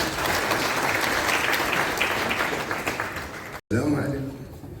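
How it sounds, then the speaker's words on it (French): Audience applause welcomes a speaker at a formal ceremony, a loud, continuous crowd of clapping that cuts off abruptly, followed by a voice beginning to speak. "sous vos applaudissements, mesdames et messieurs"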